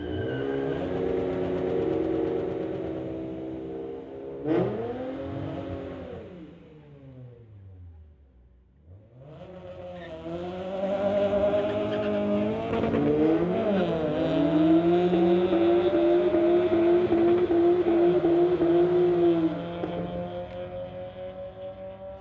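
Two street-legal cars, an Acura and a 2002 Honda Civic, drag racing down a strip: engines rev hard and climb through gear shifts with rising whine, fading briefly before a second loud run accelerates steadily, close and continuous.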